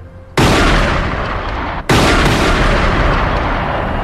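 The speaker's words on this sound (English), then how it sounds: "Outside, the police hear gunshots." Two loud, heavy blasts of gunfire, each followed by a long rumbling roar, the second about a second and a half after the first.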